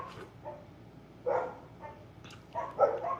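Several dogs barking outdoors in short, scattered bursts at a moderate distance, with a louder cluster of barks near the end.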